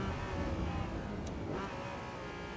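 Race car engine in Assetto Corsa Evo at Brands Hatch, a steady loud drone with a throttle blip as the driver rev-matches on a downshift, filling the short stretch alone.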